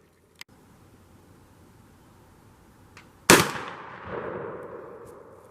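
Shotgun fired while patterning for spring turkey hunting in Nebraska: one loud, sharp blast outdoors, ringing off into a fading rumble, preceded by faint clicks and quiet background.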